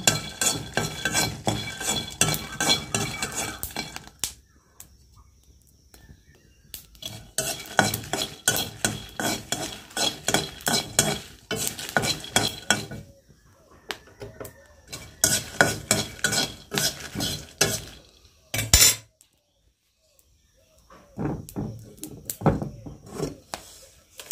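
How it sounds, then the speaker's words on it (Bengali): Peanuts dry-roasted in a pan for bharta, stirred repeatedly so the scraping and rattling come in dense bursts with short pauses between, close and fairly loud, with no talk over it. "আমি হলো এখানে বাদামটা ভাজা নিতেছি ভর্তা বানানোর জন্য"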